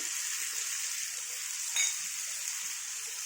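Bitter gourd pieces fry in a pan for a curry with onion and tomato, giving a steady soft hiss throughout with one brief louder crackle partway, no voices.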